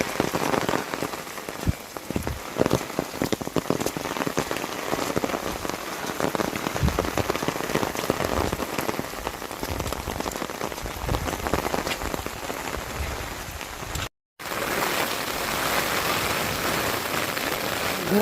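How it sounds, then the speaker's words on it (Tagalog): Heavy rain pouring down on a mountain dayhike trail in Ilocos Sur, a dense continuous hiss of drops hitting surfaces, broken by a very brief gap near the end. "ito talagang bumuhos na ng malakas yung ulan"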